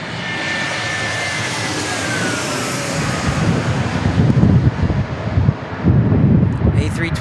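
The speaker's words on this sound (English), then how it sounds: "A321 Neo, she's a beauty." An Airbus A321neo airliner at San Diego International Airport roars past nearby, its engine noise building and surging toward the end with wind buffeting the microphone.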